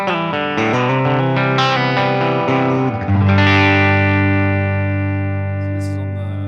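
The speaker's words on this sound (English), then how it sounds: "this is just a kind of like a typical Fender Deluxe, like a blackface amp." Clean electric guitar, a Fender American Professional II Stratocaster, rings out through a warm blackface Fender Deluxe-style tube amp, a quick run of notes settling into a sustained chord that slowly fades.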